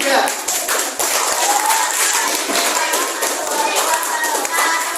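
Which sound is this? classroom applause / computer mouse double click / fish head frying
classroom applause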